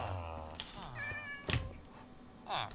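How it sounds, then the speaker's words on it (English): A cat meows several times, a drawn-out tonal meow followed by shorter calls with a brief thump between, close and moderately soft over a faint background. "Oh, cat!"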